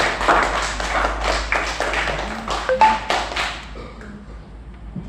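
A class of students claps together in a classroom, with a burst of scattered, fairly close hand claps and taps that tail off toward the end.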